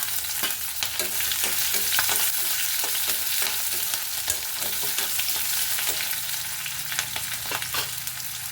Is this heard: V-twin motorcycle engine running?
no